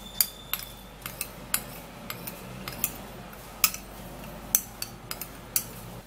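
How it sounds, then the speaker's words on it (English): Colgate toothpaste, a leaf and apple cider vinegar being mixed in a small dish: a spoon taps and clinks against it in an irregular rhythm of crisp, close metallic ticks over quiet background hiss. "So I'll also be trying to mix this Colgate plus this saint leaf and apple cider vinegar"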